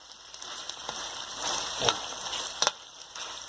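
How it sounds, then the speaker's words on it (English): Roasted peppers sizzle softly in a hot pan while being stirred, a steady low frying hiss broken by a few brief scraping knocks near the end. "Toss my roasted peppers in there, and I'm going to stir them up"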